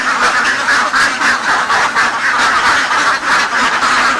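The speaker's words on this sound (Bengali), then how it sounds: "খাবার দেওয়ার পরে হাঁসগুলো বাইরে বের হচ্ছে এখন গোসল করবে" A flock of farm ducks leaving a pond after feeding quacks loudly and continuously, many overlapping calls in a dense, rhythmic chorus close by with no voices.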